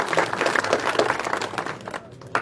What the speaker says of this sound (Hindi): जोरदार तालियों के साथ तालियां बनती रहनी चाहिए।